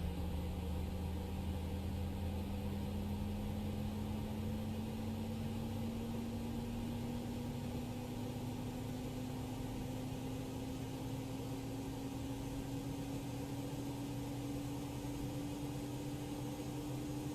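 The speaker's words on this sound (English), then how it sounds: "the engine is spooling up, N2 is rising, exhaust gas temperature is rising" A Toliss A319 jet engine in X-Plane 11 spools up at start, a steady whine that climbs slowly in pitch over an even, constant rumble, moderately quiet with no voices.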